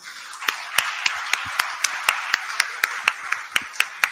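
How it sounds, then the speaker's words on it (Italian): Sparse, slow hand claps at a healthcare talk in Italy, roughly a dozen sharp claps spaced about every quarter second, fairly near and clear over a quiet room with no talking. "i relatori sono venuti a titolo gratuito, quindi meritano ancora un applauso."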